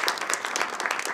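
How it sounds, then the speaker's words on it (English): An audience bursts into applause at a press conference where a governor signs an education budget bill, with dense steady clapping and a few brief voices mixed in throughout a short burst. "Yeah, you can clap for that"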